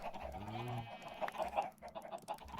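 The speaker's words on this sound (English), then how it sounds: "What do we have for chickens in here?" Chickens cluck in a Minecraft farm pen, a few short close clucks and squawks at a low level.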